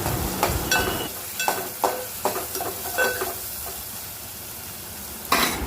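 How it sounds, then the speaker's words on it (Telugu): Spices fry in a pan as turmeric is stirred in: a steady sizzle runs underneath while repeated scraping stir strokes come in short bursts, ending with a louder scrape. "వేగిన తర్వాత పసుపు అయితే వేసేసుకొని కలిపేసుకుందాం."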